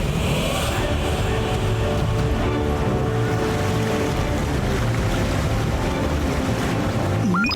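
Continuous rushing water from a waterfall in a cartoon fills the clip, a dense steady roar with no pauses, loud and close.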